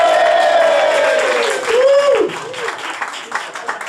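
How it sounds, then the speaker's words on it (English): A comedy-night audience at a Swindon pub cheers and claps for a winner, with a long falling whoop at first and then scattered clapping and crowd noise. "let's have a cheer for Ashley though, he's won it!"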